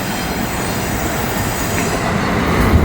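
A freight train carrying a FedEx container rolls past on a hillside line, a steady loud broadband rumble of wheels on rail that swells slightly toward the end, with no voices.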